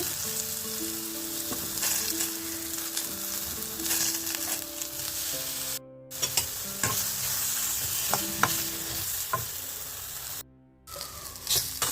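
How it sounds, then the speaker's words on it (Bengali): Eggplant pieces coated with salt and turmeric frying in oil in a kadai wok, a constant sizzle with repeated spatula stirring scrapes and knocks over background music, interrupted by two short silent cuts. "বেগুনগুলো একটু নুন হলুদ দিয়ে মেখে ভেজে নিচ্ছি"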